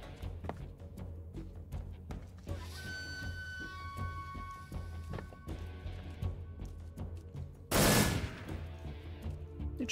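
Gunfire in Metal Gear Solid 3 while running and shooting: scattered sharp shots and short rapid bursts over about ten seconds, a loud blast near the end, with tonal game sounds in the background.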